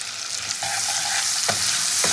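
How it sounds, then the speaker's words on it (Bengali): Tomatoes frying in a pan with a little salt while being stirred, giving a loud continuous sizzle, close up, with a few scraping strokes of the spatula and no voices. "টমেটোটা দিয়ে নাড়াচাড়া করার সময় একটু নুন দিয়ে দেবো"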